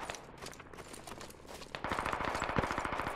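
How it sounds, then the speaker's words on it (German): Automatic gunfire in the video game Squad, rapid bursts of shots that grow louder and denser toward the end, heard alone without talk. "Wir schießen es gerade runter."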